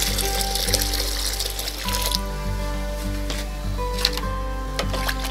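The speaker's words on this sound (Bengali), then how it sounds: "এর সঙ্গে আমি আরও এক মুখ জল মিশিয়ে দেব" Water poured into homemade organic liquid fertilizer for plants and stirred, steady splashing and gurgling with a few small drips, heard close and continuous.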